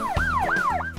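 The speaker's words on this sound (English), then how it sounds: "ambulance" An ambulance siren wails in repeated rising and falling sweeps, loud and close, alone without any talk.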